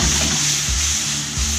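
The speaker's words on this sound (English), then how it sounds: "we want to get the apples sauteed and nice and soft" Apples sauté in butter in a pan, giving a steady, close hiss and sizzle with soft, rhythmic low thumps of stirring underneath.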